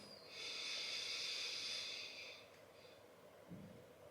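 A slow, deep inhale through the nose during a breathing exercise, a long breathy hiss that swells and then fades, followed by a faint breath sound.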